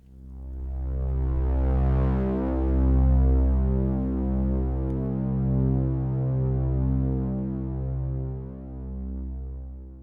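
Ambient synth pad from a Waldorf Iridium unison oscillator with a slow volume envelope, a deep harmonically rich drone that swells in gently and throbs slowly as it sustains before easing off.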